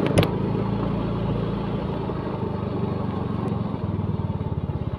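Motor scooter riding along, its steady mid-pitched engine drone continuous and close throughout, with a faster pulsing throb toward the end.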